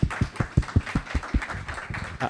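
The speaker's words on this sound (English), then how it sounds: "a round of applause for Jenée for extraordinary work" Sparse, evenly spaced claps from a small audience at a public art talk, a steady run of soft hand strikes that thins out toward the end.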